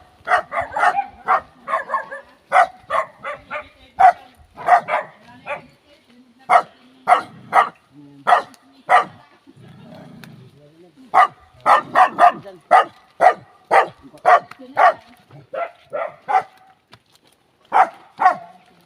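A dog barks repeatedly in short, sharp bursts, some in quick clusters, fairly close, with a brief lull midway.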